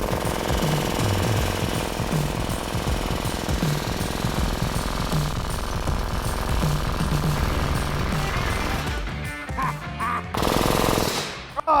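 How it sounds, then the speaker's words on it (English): A pneumatic rivet gun hammers a 1-inch rivet in a loud, rapid, continuous rattling burst lasting several seconds, then stops and fades into a few scattered clanks. "Setting a 1-inch rivet with a pneumatic rivet gun and a fairly decent one to boot"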